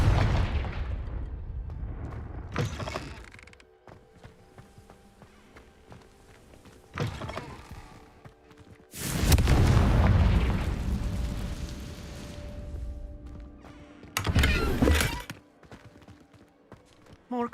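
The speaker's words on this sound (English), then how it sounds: "Confringo." Fire explosion spell cast in Hogwarts Legacy, with several loud broadband booming bursts at irregular intervals and quieter game ambience between them.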